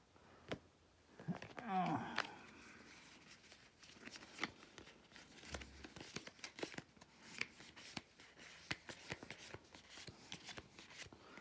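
Papery riffling and snapping of playing cards being shuffled for a card game, close and fairly quiet, with a busy burst early on followed by scattered soft taps and clicks.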